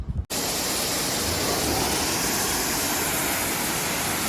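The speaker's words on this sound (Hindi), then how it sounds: "अब इसको हम प्रेशर वॉशर से वॉश कर लेंगे।" Pressure washer spraying water to rinse shampoo foam off a car, a steady loud hiss of high-pressure spray starting abruptly after a brief quiet moment and continuing without pause.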